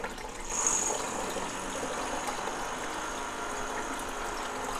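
Water pours steadily into the reservoir of a Fakir Kaave Dual Pro coffee machine, a continuous close splashing gush that holds at an even level.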